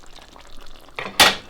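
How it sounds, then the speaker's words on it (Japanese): A veal Marengo stew simmering gently in a pot makes faint, soft bubbling, ending in a couple of louder close pops. "このような感じに常にポコポコという状態、ミジョテの状態でゆっくりと火を入れていきます"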